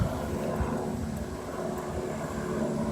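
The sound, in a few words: helicopter flying overhead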